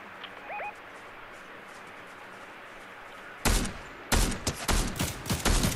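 Rapid bursts of gunfire from a Fortnite firefight ring out loud and close in the second half, several sharp volleys in quick succession after a quieter stretch of ambient game noise with a brief chirping tone.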